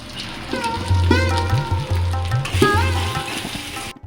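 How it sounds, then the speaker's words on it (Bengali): Ginger paste, salt, Kashmiri chili powder, turmeric, sugar and cumin powder sautéing in a pan, with a steady sizzle running under tonal background music for the whole stretch. "আদা বাটাটা দিয়ে নুন কাশ্মীরি লঙ্কা গুঁড়ো হলুদ চিনি আর আর জিরে গুঁড়ো দিয়ে ভালো করে কষিয়ে নিলাম"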